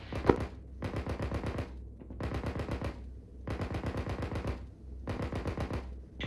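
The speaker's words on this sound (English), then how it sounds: "1-1 firing warning shots" Machine gun fire from a landing craft during an amphibious assault training exercise, warning shots in five long rapid bursts separated by short pauses, loud and close, with nothing else heard.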